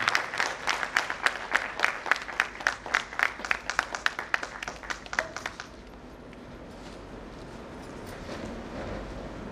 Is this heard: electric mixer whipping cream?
no